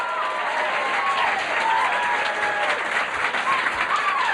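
A comedy club crowd in Sacramento applauds a comedian taking the stage, a dense, steady wash of clapping with a few whoops, continuous throughout and fairly loud.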